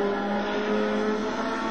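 A rally car engine in the WRC 4 racing game drones at a steady high pitch, loud and continuous, with a rough buzzing edge and no voices over it.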